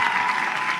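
Sustained audience applause at a Loki panel fills the space, a dense, steady wash of clapping from a large crowd with no pauses, loud and continuous throughout.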